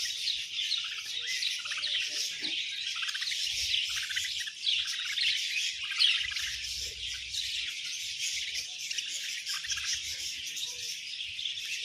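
Many birds chirping and tweeting together at a bird park, a dense continuous chorus of bright calls with occasional squawks, moderately close and without talk.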